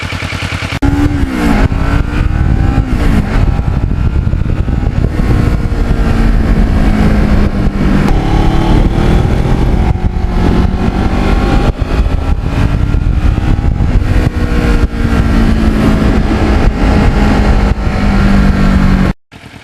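Kawasaki Ninja motorcycle with lowered forks being ridden, its engine droning loud and steady throughout with rising and falling pitch as it revs through gears, plus constant wind rush, then cutting off abruptly at the end.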